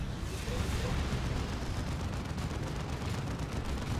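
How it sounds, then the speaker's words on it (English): Plague Marines fire on a Baneblade tank in the strategy game Dawn of War 2: Retribution, a dense, steady roar of distant battle gunfire and explosions with faint commentary underneath. "Plague Marines getting shots off on the Baneblade"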